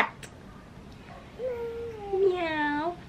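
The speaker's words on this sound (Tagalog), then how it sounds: "Cat." A single drawn-out cat meow, close and clear, rising and then slowly falling over about two seconds after a brief quiet lead-in.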